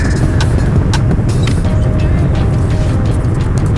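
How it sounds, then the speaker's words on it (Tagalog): Morning road traffic heard from a motorcycle ride in Baglin: a constant, close roar of engines and road noise with faint passing vehicles, no speech. "Traffic."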